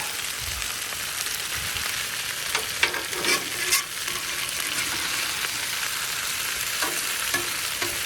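Sliced onions fry on a Blackstone griddle and are stirred with a spatula, making a steady close hiss broken by a few louder scrapes and clacks near the middle. No one talks.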